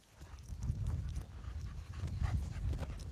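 Two gentle dogs pant steadily nearby, quick rhythmic breaths over soft outdoor background with a faint patter, moderately quiet and without speech.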